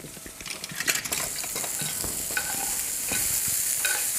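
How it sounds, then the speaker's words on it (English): A spoon stirs sage through a sizzling pan, making busy clinks and scrapes against the metal at first that ease into a steady close fry, with nobody speaking. "I'm going to get you a spoon that'll be a little easier to stir with."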